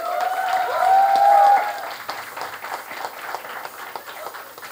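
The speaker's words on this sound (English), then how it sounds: "Please welcome all our panelists with a huge round of applause." Applause from an audience at a book launch event in Mumbai, a crowd clapping with a bright tonal swell early on, then continuing as dense scattered clapping that slowly thins out.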